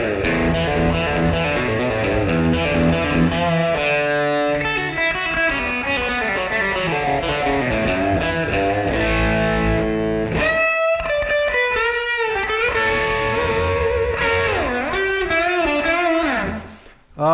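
A Telecaster electric guitar plays through a Headrush Gigboard effects unit, giving a loud, continuous, distorted and effected tone with strummed chords and then sliding single-note phrases, with no talking.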